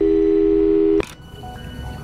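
Busy signal from a telephone in a horror video game after a failed call, a steady low double tone droning for about a second and then cutting off abruptly, leaving quiet background hiss.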